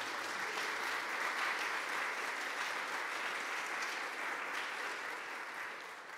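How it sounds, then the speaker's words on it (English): A conference audience applauds for the organizing teams, a dense, steady clapping that holds for several seconds before starting to fade toward the end. "a big round of applause for these teams that are organizing this"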